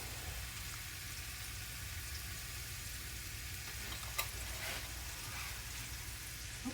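Already-cooked sausage warms in a pan with a steady, fairly quiet frying sizzle throughout, punctuated near the end by a brief scrape of stirring.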